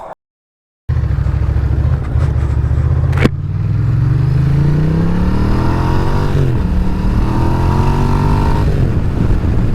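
A Ducati ST3 sport-touring motorcycle starts up after a brief silence and rides off along a Tasmanian country road, its engine loud and close, revving up through the gears with rising and falling pitch and steady wind under the run.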